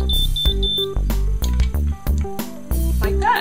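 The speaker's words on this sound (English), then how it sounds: "it beeps 4 times quickly when it's done" A BabylissPro Miracurl hair curler beeping four times quickly when done, short electronic tones heard over loud background music.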